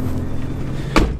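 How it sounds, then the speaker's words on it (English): A Nissan GTR door shut in the rain, a single close thud near the end, heard over a low engine idle. "close the door,"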